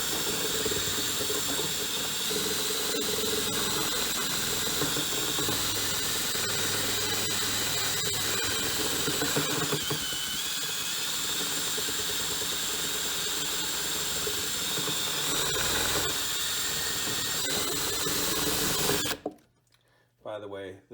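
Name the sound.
DeWalt brushless cordless drill running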